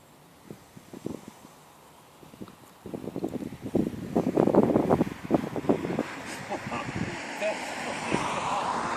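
Wind blows across the microphone in low rumbling gusts while people talk nearby, the buffeting rising and falling throughout.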